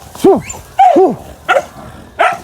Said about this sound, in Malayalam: ഈ എത്ര നായ്ക്കളാണ്